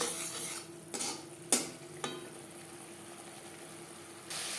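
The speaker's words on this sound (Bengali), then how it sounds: "লো টু মিডিয়াম ফ্লেমে 4-5 মিনিট মশলা কষিয়ে নেব।" Ground spices with a pinch of turmeric stir-fried in a pan on a low-medium flame for lau chingri, a steady soft sizzle broken by several sharp spatula scrapes against the pan, with no talk.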